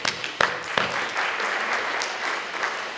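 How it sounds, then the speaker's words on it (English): A science-talk audience gives a round of applause for two volunteers after a universe-expansion demonstration, starting with a few sharp claps and swelling into steady, moderately close clapping. "Give a round of applause."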